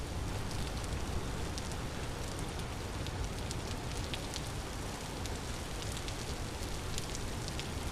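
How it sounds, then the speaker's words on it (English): Steady soft patter of rain falls continuously in a video game, an even wash of fine droplets with faint crackling, quiet and unbroken with no voices. "Oh, definitely cozy rain sounds."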